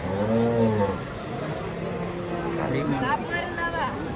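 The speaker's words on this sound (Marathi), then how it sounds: "चांगल्या क्वालिटीची गाय आहे" Cows moo at a busy cattle market in Varkhedi, several long low calls rising over a steady crowd babble and nearby chatter.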